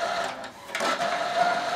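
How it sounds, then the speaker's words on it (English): A Kodak ESP7 wireless inkjet printer running a print job, a whirring mechanical drone with a steady whine and brief shifting clatters as the carriage moves, close and moderately loud. "It's actually printing right now."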